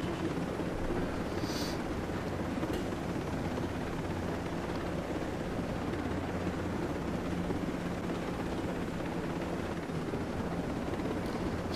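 Helicopter in the video game Ghost Recon Breakpoint, a steady low rotor and engine rumble that holds at an even, fairly quiet level throughout with no talking.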